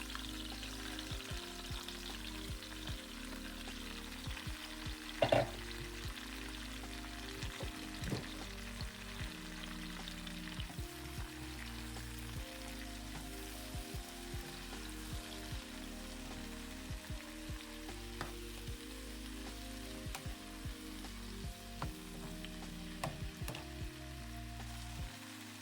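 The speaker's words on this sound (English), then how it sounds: "And now I'm going to add all of my mushrooms into the pan" Mushrooms fry in olive oil in a pan for risotto, giving a steady, quiet hiss and crackle that carries on throughout with a sharper knock near the start.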